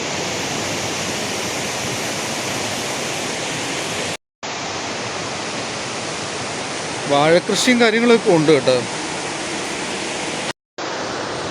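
Stream in Kerala flowing past a forest temple at Anchukuzhi near Erumeli, a loud, steady rushing wash of water throughout, cut by two brief gaps, with someone talking over it for a moment.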